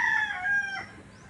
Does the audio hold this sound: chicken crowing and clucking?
yes